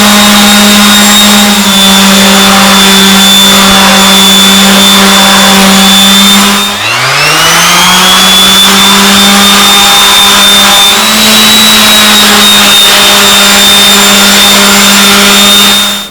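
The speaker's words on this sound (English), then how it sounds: "I'm going to go ahead and finish the sanding on the rest of the frame." A power sander works over an aluminum Huffy mountain bike frame being stripped of clear coat, a loud steady motor whine running throughout with a brief dip in speed partway before spinning back up.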